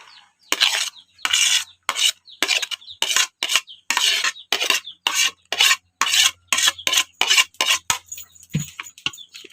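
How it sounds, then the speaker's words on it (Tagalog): Lumpia filling of sardines, garlic powder and spices being stirred in a bowl with a utensil, about twenty rhythmic scraping strokes separated by brief pauses, close and clear with no talk. "Pagsasama-samahin lang natin itong mga sangkap natin."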